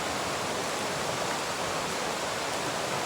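Water rushing at Ghonsari waterfall near Kankavli, heard as a dense, even roar that holds steady throughout with no voices.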